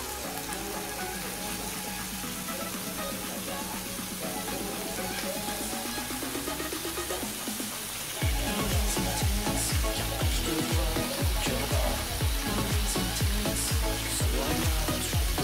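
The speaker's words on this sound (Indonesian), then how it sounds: "Wajan panggangnya udah panas, satenya bakalan gue masukin." Steady sizzling and crackling of sate taichan, chicken skewers, on a hot grill pan, growing louder and busier partway through as more pieces hit the surface.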